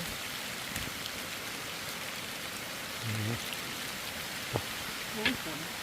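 Steady rain falls in a forest during mushroom picking along a roadside, a constant soft hiss of drops with a few louder nearby taps and brief rustles.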